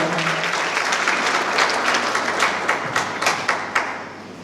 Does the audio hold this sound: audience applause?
yes